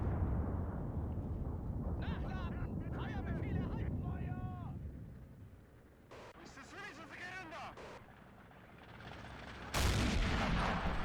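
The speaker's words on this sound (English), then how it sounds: "Here comes the artillery." Artillery fire in the Army Men Battle Simulator video game: a steady low rumble broken by heavy booming blasts, the loudest near the end, while someone talks over parts of it.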